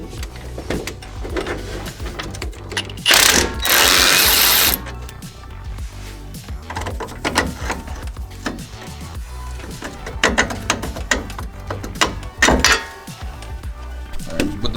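Wrench work on the lower shock absorber bolt of an ND Mazda Miata: repeated close metallic clicks and ratcheting scrapes, one loud harsh burst partway through, with a few more sharp clanks near the end and no talking.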